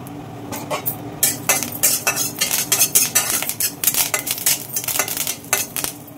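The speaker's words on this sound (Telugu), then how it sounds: "కరివేపాకు ఇలా వేగుతూ ఉంటుంది." Curry leaves frying in a little oil in a pan for beetroot curry, stirred with a metal spoon that clinks and scrapes repeatedly against the pan in quick, uneven strokes.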